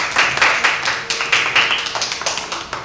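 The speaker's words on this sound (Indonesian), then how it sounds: "kasih tepuk tangan untuk Owen" A class of young pupils claps for a classmate after he answers in a second-grade civics lesson, a quick run of bright, slightly uneven hand claps close by with no talking.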